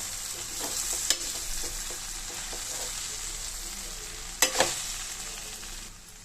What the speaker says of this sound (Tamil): இது நல்லா சுருண்டு வர அளவுக்கு வதக்கி விடணும்